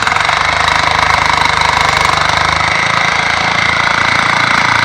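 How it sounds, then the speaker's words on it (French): Large jackhammer breaking hard ground made of two-thirds stones and one-third soil for a farm barn foundation, a steady loud continuous rattling hammering drone with engine hum, close and unbroken throughout. "C'était tellement dur qu'on a dû utiliser le gros marteau-piqueur."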